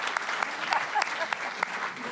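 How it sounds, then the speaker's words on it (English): Brief applause from a book festival audience, with scattered sharp claps over a soft crowd wash for about two seconds. "I'll clap for that."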